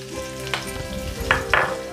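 Onion frying in a kadai, a close steady sizzle over a low background hum, punctuated by a few quick scraping strokes of a utensil, no talk.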